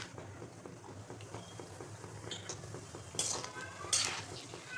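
Cashews fry in oil for a crispy fried poha chivda, a soft continuous bubbling hiss with a few brighter scraping clinks of a spoon near the end, close and quiet.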